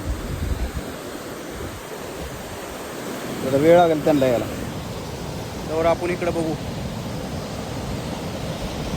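River water near Kalu waterfall in the Sahyadri hills rushes in a steady broadband wash, while someone talks over it for a few seconds midway.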